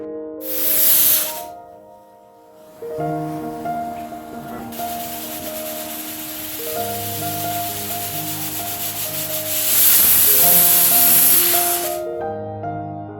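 Pots and dishes are washed at a kitchen sink in the morning: bursts of running water at the start and near the end, with scrubbing and rubbing between, over background music.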